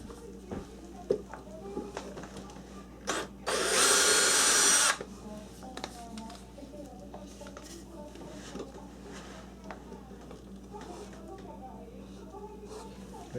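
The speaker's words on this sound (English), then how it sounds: "I'm going to go ahead and drill in here first, make some countersink holes" A power drill bores countersink holes into wood during a bathroom remodel, one loud sustained whine lasting just over a second, with lighter clicks and handling noise around it and someone talking.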